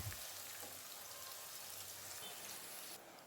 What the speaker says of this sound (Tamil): இதை நல்லா சேர்த்து நல்லா வதக்கி விட்டுக்கோங்க